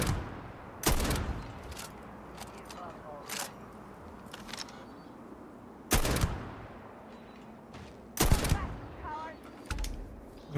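A gun turret in Starfield fires in separate loud bursts, each a sharp crack or short volley spaced a couple of seconds apart, with quieter shots and faint background activity in between.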